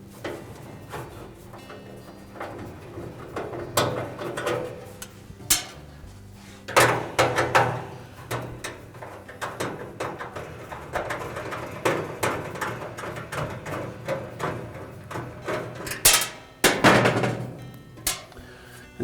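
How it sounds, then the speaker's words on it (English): Hex head screws come out of an Amana dryer's heater housing under a tool, giving scattered close clicks, scrapes and sharp metallic knocks at irregular intervals, with no talking. "So just remove those two screws."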